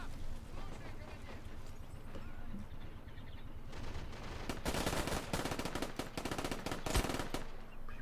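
A PPSh submachine gun fires in a video game match, rapid automatic bursts building into sustained rattling gunfire, loud and close, with a voice speaking over parts of it.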